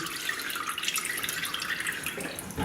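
Brine pouring out of a turkey into a kitchen sink, a steady close splashing and trickling of liquid that runs continuously without pause.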